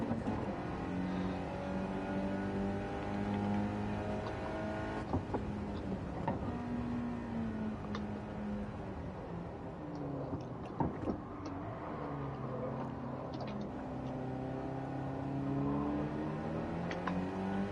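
A race car engine in the Gran Turismo 7 video game holds a steady, faint drone that rises and falls in pitch through gear changes and revving, with brief knocks and scrapes.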